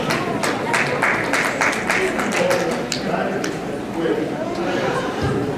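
Audience applause at an outdoor Christmas tuba concert, scattered claps with crowd chatter that fades out over a few seconds.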